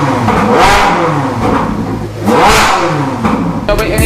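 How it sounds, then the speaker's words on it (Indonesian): Ferrari sports car engine revving hard in repeated surges, a loud, close, rising and falling roar with brief lulls between blips and no talk. "Ferrari itu smooth tapi suaranya lebih nembak"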